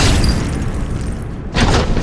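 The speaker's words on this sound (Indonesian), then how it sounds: "Jarin langsung menembak lebih cepat darinya dan berhasil membunuh Rosid saat itu juga." A loud, booming gunshot effect in a dramatized sniper story, a heavy sustained blast that dips briefly and then surges again, with no voices.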